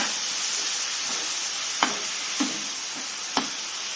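A steady, close sizzle of onion, ginger and garlic masala paste frying in a pan for chole curry, with a few soft stirring clicks and taps.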